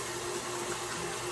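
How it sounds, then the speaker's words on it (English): Water running into a kitchen sink to rinse out a mixing bowl after beating pumpkin roll batter, a brief steady rushing hiss. "I'm just gonna put this in the sink and rinse it out."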